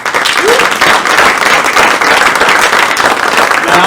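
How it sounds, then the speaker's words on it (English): Loud, full applause from a live evening show audience, a thick, sustained roar of many hands clapping close and strong from start to finish. "one more time, give a round of applause to Amanda Christian, Valerie"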